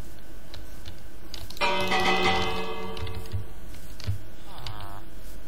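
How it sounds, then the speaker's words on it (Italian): A bell in the Minecraft video game rings out clearly for about a second and a half, a bright sustained tone, with faint clicks and game sounds around it and no speech. "Ma non la sentite la campana?"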